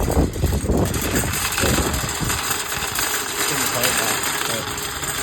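A car engine hums steadily while driving along, a continuous mid-level drone with road noise, with a voice talking over it.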